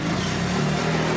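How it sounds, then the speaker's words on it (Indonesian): A motorcycle engine hums steadily at a moderate distance, a continuous mid-pitched drone with no voices. "itu suara motor."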